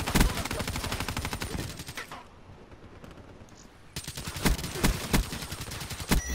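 Rapid bursts of video game gunfire, dense rattling automatic shots in two volleys separated by a brief quieter gap, loud and close with no talking.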